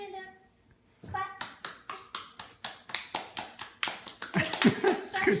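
A young child claps his hands in a steady run of about fifteen sharp, close claps at an even rhythm, after a brief quiet start, with an adult's voice faint in the background.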